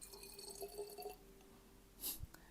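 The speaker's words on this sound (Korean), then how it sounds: "에센셜 오일이 이런 물소리가 나는 건 처음 들어봅니다" Essential oils, lime and litsea among them, poured from small bottles into a diffuser base, giving faint watery trickles and a brief drip-like splash near the end, quiet and close.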